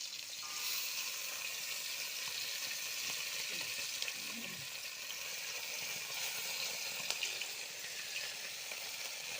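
Fish frying in a pan with a steady, bubbling sizzle throughout, moderately close, with a few faint stirring clinks and no talk.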